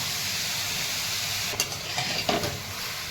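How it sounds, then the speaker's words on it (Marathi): Grated carrot sautéing in ghee for carrot halwa, a steady close sizzle with a soft hiss, broken by a couple of brief scraping stirs near the end. "खिसून घेतलेला गाजर टाकलेला आहे तुपामध्ये"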